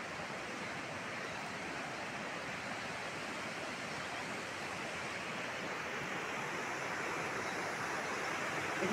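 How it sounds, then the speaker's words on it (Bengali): A strong river current rushes beneath a suspension bridge, a dense, constant roar of water that stays steady throughout without pauses. "এখানে জলের স্রোত আছে প্রচুর"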